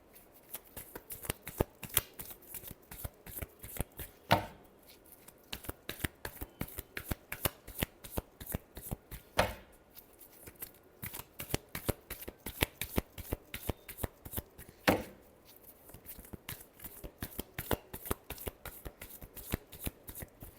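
Tarot cards shuffled by hand: a long run of rapid, crisp riffling flicks in close, even bursts, with a few louder snaps as the deck is squared, quiet and near with no talking.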